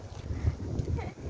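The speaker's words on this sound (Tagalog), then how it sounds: "Sarap-sarap ng hangin." Wind blowing outdoors near Springleaf MRT, a low rumbling buffet across the microphone, steady and close throughout the short stretch.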